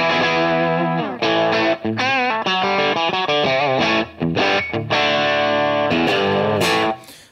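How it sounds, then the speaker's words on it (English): A guitar played through a cranked tube amp, driven into power tube and phase inverter distortion, rings out loud and gritty in sustained chords and bent notes, with short breaks between phrases. "we're going to start getting some phase inverter distortion and obviously the power tube."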